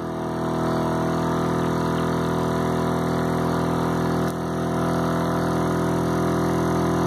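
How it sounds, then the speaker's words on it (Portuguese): An Adams pulse motor whirring steadily and loudly up close, a constant electric drone with a faint pulsing hum, running alone as it speeds up after the generator coil is shorted. "o curto na bobina geradora, que era para frear o motor, acelera o motor."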